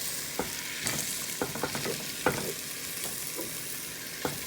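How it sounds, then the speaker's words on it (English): Diced tomatoes and chickpeas being stirred in a pan for chana masala, with a utensil scraping in a few irregular knocks over a soft, steady sizzle close by; no one talks. "And stir that around, and then I'm going to add in the chickpeas."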